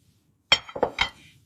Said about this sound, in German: Ich räume den Tisch ab.